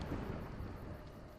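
Low, steady rumble of thunder in the video game A Juggler's Tale, a dull rolling roar that fills the clip without sharp cracks, stormy and continuous.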